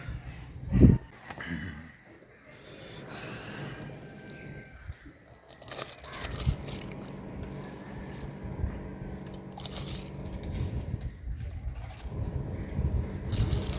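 Rice being washed by hand in a vessel of water, with soft sloshing, trickling and gritty grain rubbing that carry on steadily at close range, plus one sharp knock near the start.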